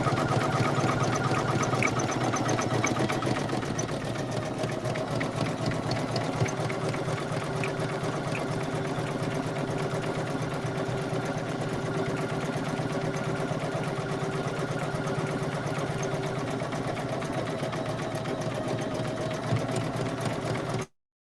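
A Poolin EOC06 single-needle embroidery machine stitches a patch with a rapid, steady mechanical clatter and whir, running continuously at moderate volume for about twenty seconds before stopping abruptly.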